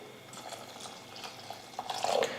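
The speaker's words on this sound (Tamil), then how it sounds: "இப்போ இந்த பாலை சேர்த்துடுறேன்." Boiled milk is poured into sago payasam cooking in a pot, a soft liquid trickle that swells into a fuller, louder pour near the end.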